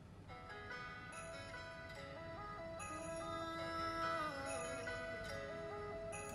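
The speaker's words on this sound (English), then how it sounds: "That was Laura with the doorbell. Silent Night" Silent Night played as a tinkling, chime-like electronic melody for a Christmas song guessing game, a slow tune of bright sustained tones heard clearly and alone.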